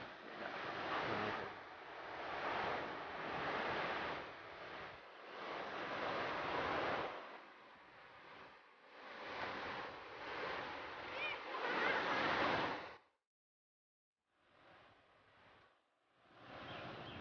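Waves at Ujungnegoro, a cliff-lined beach in Batang on Java's north coast, roll in as loud repeated roaring surges mixed with wind buffeting the microphone, then drop briefly to silence before fainter surf returns.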